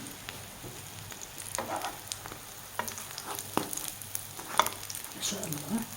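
Brik pastries fry in hot oil with a soft, continuous sizzle and scattered sharp crackles and pops, quiet and close.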